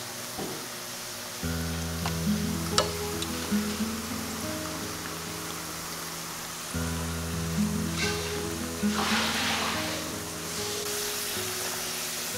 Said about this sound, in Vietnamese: mình thả từng lát khoai tây vào chiên